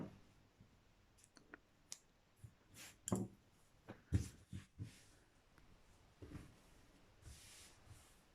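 Scissors snip through crocheted triangular corner lace, a series of quiet close clicks and snips spaced irregularly, faint and alone with no talking.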